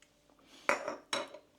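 Two clattering scrapes of a utensil against a dish, spaced about half a second apart, close and fairly crisp with quiet between them.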